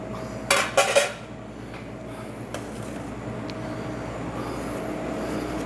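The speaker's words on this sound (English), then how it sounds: "I'm going to put a pan on here" A pan clanks down onto a stove burner with a short cluster of metallic knocks and rattles near the start, followed by a faint steady kitchen hum.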